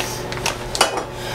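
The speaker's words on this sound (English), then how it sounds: "we're gonna get a pot of water boiling on the stove with some chicken stock" A pot clatters on a stovetop as it is set up to boil water with chicken stock for pasta, giving a few brief metallic knocks and scrapes, close and moderately loud, with no talking.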